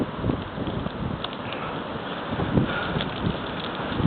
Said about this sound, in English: And it's snowing really hard. So get that wind,